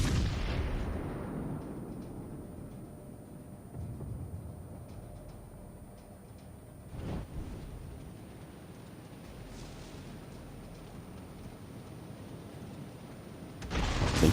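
Naval gunfire striking a ship in a warship video game, a heavy booming blast opening, another deep impact mid-way and a third at the end, each decaying into a low rumbling tail.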